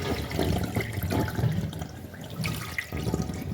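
Finger millet grains are washed in water, giving soft sloshing and splashing with intermittent pouring and trickling, fairly quiet and close by, with no talking.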